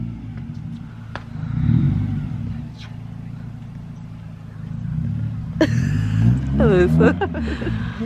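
A Mazda Miata NB on its first drive after being built, engine droning steadily close by and swelling in brief revs, while several people talk and exclaim over it throughout.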